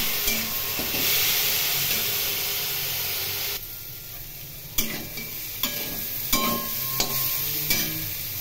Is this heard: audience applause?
no